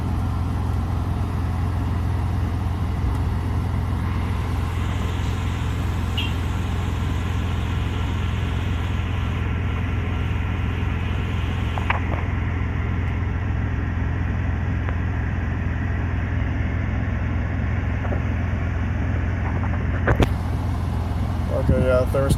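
Car engine idling steadily at close range as it warms up after a new radiator install, a constant low hum throughout with brief clicks near the end and people talking over it.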